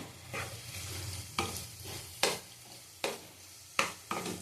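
Around 150 grams of prawns cook in a pan, giving a steady close sizzle broken by five or six sharp scraping stirs at roughly even intervals.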